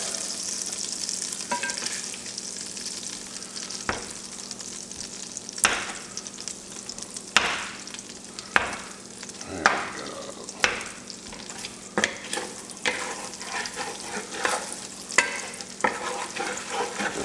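Butter melting and frying in a pot for chicken etouffee, a steady close sizzle broken by repeated sharp clicks and scrapes of a utensil against the pot.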